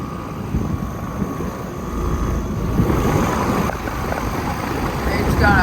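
Commercial rooftop air conditioner from 2022 with an Emerson Copeland scroll compressor and fan motor, running as a steady, close broadband whir and hum.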